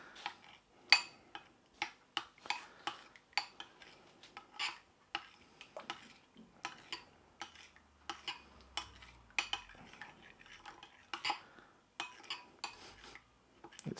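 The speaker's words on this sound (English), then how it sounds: "So we're going to give that a good stirring together" Spoon scraping and clinking against a bowl while salt and pepper marinade for Chinese barbecue spareribs is mixed, a brisk irregular run of close, sharp ticks and taps with no talking.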